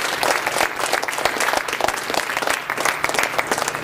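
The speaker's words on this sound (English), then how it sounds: "Let's give everyone a round of applause." Conference attendees at a speech project event clap together in a loud, close round of applause, the individual hand claps dense and crackling with slight surges throughout the few seconds.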